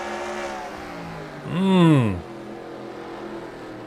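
Race car engines in a racing video game at Martinsville: a steady engine drone, then a loud rising-and-falling whine as a car sweeps past, settling back to the drone.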